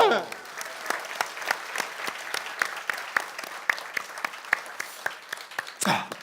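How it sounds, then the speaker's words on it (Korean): Audience applause during a Korean talk show, steady close clapping with distinct individual claps throughout, tapering off near the end. "박수 한번 주세요."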